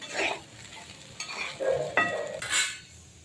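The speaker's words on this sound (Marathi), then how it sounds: "व्यवस्थित हलवून घ्यायचं एक दोन मिनटं" Sabudana (sago) khichdi being stirred in a pan, with a few close scraping strokes and light clinks of a spoon against metal over a soft sizzle, and no talking.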